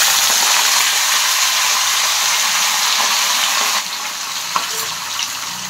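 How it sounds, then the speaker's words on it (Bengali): Fish sizzles and crackles loudly in hot oil in a blackened wok, a dense steady frying hiss that drops slightly in level partway through, with a brief clink near the end. "এই যে 4টে মাছ ভেজে তুললাম"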